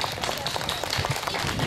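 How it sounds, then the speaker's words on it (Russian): At a dance school's annual concert, the audience claps in dense, steady applause filling the hall, with voices mixed into the crowd noise. "Аплодисменты!"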